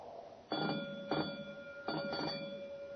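An electric fire alarm bell rings in three short bursts separated by pauses, with a steady tone underneath, moderately loud and somewhat distant.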